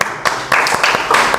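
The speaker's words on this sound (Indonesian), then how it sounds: "Tepuk tangan dong untuk semuanya." Scattered clapping from a small group in a classroom or online teaching session, several uneven bursts over a moment, fairly close.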